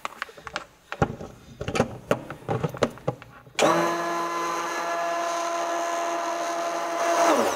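An electric blender whirs up and runs steadily, mixing a banana and orange facial serum, after a few seconds of clattering handling and tapping sounds.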